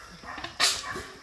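Young bred dogs, around eleven months old, let out a single sharp bark close by, preceded by softer yips and scuffling noises in the background, with no talking.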